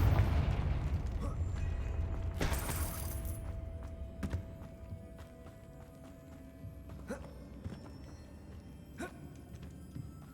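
A Confringo fire spell blasts in the video game Hogwarts Legacy: a sharp, loud burst with a crackling, fiery rush, then a lighter impact a moment later, over a steady game background with a few scattered faint pops.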